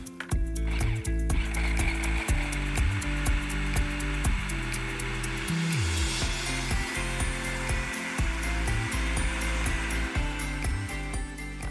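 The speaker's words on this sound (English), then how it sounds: "I'm just going to start blending so all of that feta combines with the herbs" A blender whirring steadily up close as it purees feta, herbs and yogurt into a dressing, with a loud continuous motor drone that shifts in pitch as the contents churn.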